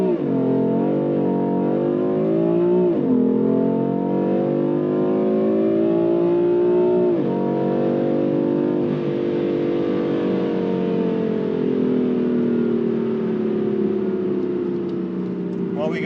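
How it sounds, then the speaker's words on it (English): A BMW M4 with the S55 engine launches hard on launch control, its exhaust note rising through gears with a clear shift dip, tires spinning as the loud engine drones on steadily near the microphone. "Manual mode, brake, kick down, launch control, lots of wheel spin"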